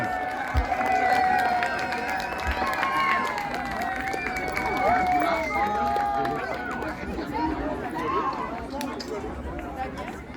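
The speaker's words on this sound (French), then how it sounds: "On les acclame!" A theatre audience cheers and applauds performers on stage, a steady crowd roar with voices calling out and chatter mixed in, sustained throughout at fairly close range.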